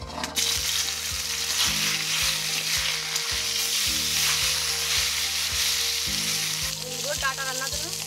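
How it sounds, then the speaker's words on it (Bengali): Fish pieces frying in hot oil in a village kitchen, a loud continuous sizzle and crackle running close and steady throughout, with a low hum and a few brief squeaky sounds near the end. "তেল গরম হয়ে গেছে, এবার মাছ কাটা দিয়ে দেবো"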